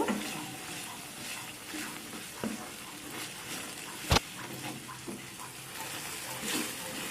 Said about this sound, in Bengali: এখন এর মধ্যে আমি কেটে রাখা ক্যাপসিকামগুলো দিয়ে দিলাম। দিয়ে সব কিছুকে ভালো করে মিক্স করে নেব।